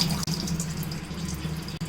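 Tap water runs quietly into a kitchen vessel while rice and dal are rinsed for pongal, giving a soft, continuous splashing hiss with a couple of brief breaks.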